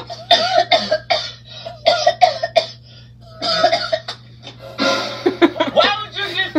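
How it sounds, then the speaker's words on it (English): Close, loud coughing in several bursts, mixed with chuckling and laughter in a quiet room. "What made you cough over here, though?"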